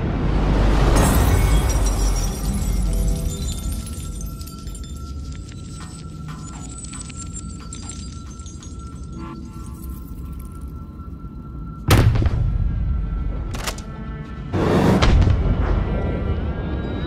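Slow-motion gunshot sound design by Proto SFX: a deep, booming stretched blast with a long rumbling decay, then sparse metallic clinks and two more heavy slowed-down impacts near the end.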